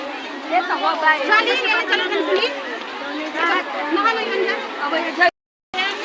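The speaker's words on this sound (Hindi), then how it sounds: "ये देखिए यहाँ पे काफ़ी भीड़ है, बहुत ज़्यादा भीड़ है, सब लोग नहा रहे हैं।" A large crowd bathing at Baraiya pond fills the air with continuous overlapping chatter and calls, a busy, close babble of many voices that cuts out briefly near the end.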